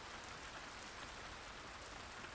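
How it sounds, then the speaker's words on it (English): Heavy rain falling steadily outside in the visual novel Tsukihime, a dense, constant hiss of drops on surfaces with no voices, even and unbroken throughout. "The rain outside falls hard."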